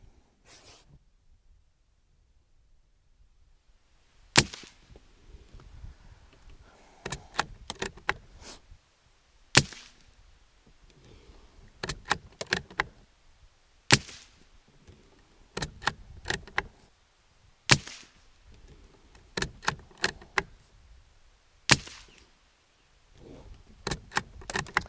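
Magtech .22 LR subsonic rounds fired from a suppressed rifle at about 50 metres, a dozen or so sharp muffled cracks spaced a second or more apart, each with a short tail, between quiet stretches.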